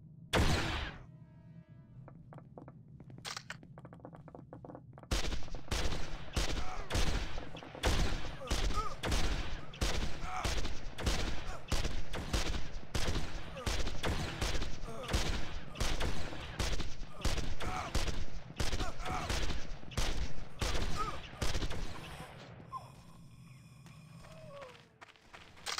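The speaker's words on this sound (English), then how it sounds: "Yo guys, I'm getting shot at and you guys are not helping me out." Face of Mankind gunfire rattles on for about twenty seconds as a steady, fairly loud stream of evenly spaced shots with a mechanical edge. A few isolated shots come before it, and quiet talk is heard at the start and the end.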